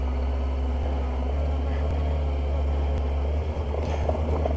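Honda CBR600 F2 motorcycle engine droning loudly and steadily while riding an off-road route in the Spanish Pyrenees in warm air, with constant low engine hum and wind rush close to the microphone.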